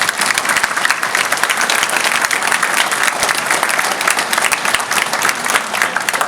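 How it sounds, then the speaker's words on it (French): Sustained audience applause at a mayor's New Year greetings ceremony in Hayange, France, dense and loud, continuous clapping from a large crowd filling the whole stretch without speech over it. "et je crois qu'on peut l'applaudir."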